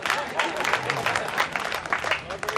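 Loud, dense applause from a crowd at a poetry recital event in Raipur, steady clapping that fills the whole stretch without a break.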